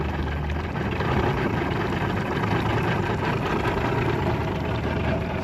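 An old Mercury 135hp outboard on a 1989 Starcraft boat idles steadily, a continuous low rumbling drone with a broad noisy wash over it, constant in level and close by, with no talking.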